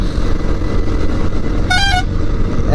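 A single short vehicle horn honk from a motorcycle on the road cuts through loud, continuous engine and road rumble, with a lorry behind.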